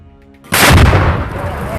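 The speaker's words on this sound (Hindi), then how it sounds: "इसके बीच हरियाली के बीच छिपकर अल-कुद्स का एक और लड़ाका दनादन रॉकेट दागने लगता है।" A sudden loud blast of Hamas rockets launching at close range from cover in Gaza, then a sustained roaring rush that stays loud to the end.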